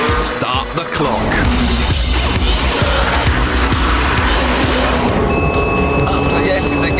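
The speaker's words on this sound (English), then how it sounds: "The revs are right up high." A Mazda RX-8 on a race track with its engine revving high, a loud, sustained mechanical roar that shifts in pitch as it is driven hard, with someone talking over it throughout.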